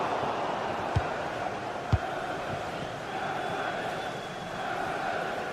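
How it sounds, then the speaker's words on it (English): Football crowd at a match in a GT Sports broadcast, a dense continuous roar from a large stadium audience with a couple of sharp thumps early on, no clear talk over it. "The crowd certainly think so. Just listen to that noise."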